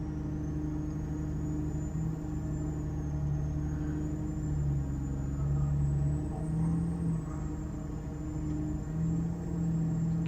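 A Hayes Clipper truck in American Truck Simulator driving off-road on a British Columbia run, its engine a steady, loud, close rumble with low harmonic drone shifting slightly in pitch, with no talk over it.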